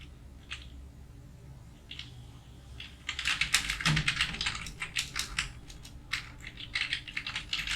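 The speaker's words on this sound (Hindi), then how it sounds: "तो वो एड्रेस हमें यहाँ पे टाइप करना पड़ेगा" A computer keyboard being typed on while a company address is entered, first a few scattered taps, then a run of quick, close keystrokes in bursts with short pauses, no voices.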